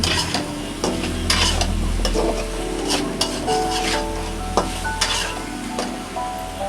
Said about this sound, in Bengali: তারপরে ভালোভাবে কষাইতে আছি